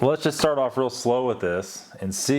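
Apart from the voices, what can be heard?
No everyday noises stand out.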